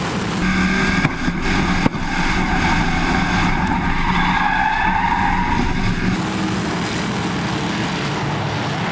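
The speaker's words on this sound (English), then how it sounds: "Scott Riggleman spinning down the home stretch." Race car spinning and skidding on an oval track during a Factory Stocks event, a loud sustained engine roar with tire screech, other cars droning past and sharp bumps early on.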